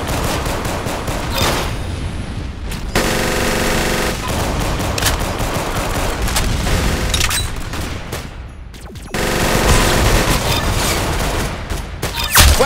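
Sustained bursts of rapid-fire game gunfire from the Roblox shooter Arsenal crackle loudly and almost continuously, with short gaps between volleys and no voices over the shooting.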